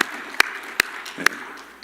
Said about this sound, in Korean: 우리 하나님께 영광의 박수 좀 올려드릴까요?